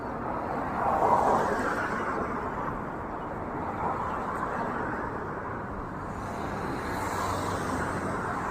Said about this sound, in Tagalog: may sasakyan kasi.